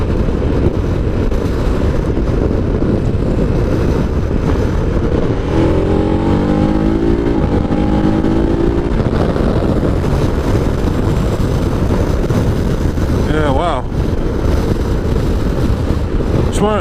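A KTM 1290 Super Adventure motorcycle ridden fast, its engine droning loud and steady under heavy wind roar from the rushing air, with a brief rise in pitch as it accelerates partway through.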